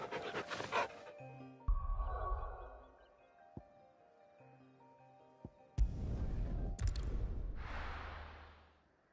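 In Final Fantasy 16, a hound pants in short breathy bursts with brief pauses between them, fairly close, with faint game ambience in the gaps and no talking.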